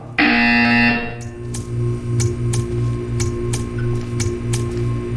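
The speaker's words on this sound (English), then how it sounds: "You will hear a buzzer." In the Portal 2 video game, a loud electronic buzzer blares for about a second, then a quiet, steady series of ticks follows at an even pace.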